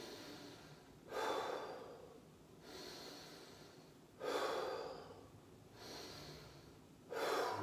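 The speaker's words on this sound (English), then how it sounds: "3 deep breaths here" Slow, deep, audible breaths during a kettlebell flow workout, four or five long airy inhales and exhales spaced a couple of seconds apart, close and fairly quiet with no talking.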